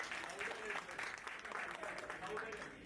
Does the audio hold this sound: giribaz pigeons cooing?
no